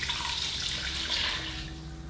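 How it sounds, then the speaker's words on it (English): Three cups of water poured into a pot of dry quinoa, a steady close rushing splash that runs unbroken for about two seconds with no voices. "So I'm putting in 3 cups"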